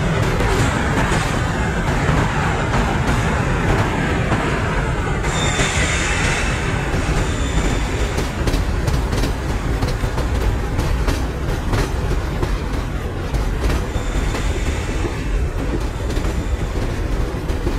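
The Chennai–Nizamuddin Rajdhani Express rolls slowly over rails near the Chennai Central depot at about 30 km/h, a loud, continuous rumble with rhythmic clickety-clack of wheels and some squealing, no voices.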